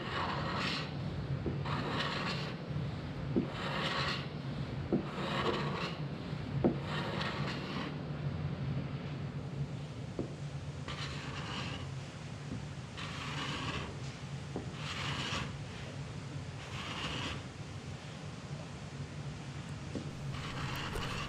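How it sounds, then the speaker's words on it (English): A chisel held like a scraper drags across wood to lift soft epoxy residue, giving repeated rasping strokes in regular bursts over a steady low background hum, close by and with no talk. "we can use a chisel like a scraper to remove a lot of that residue"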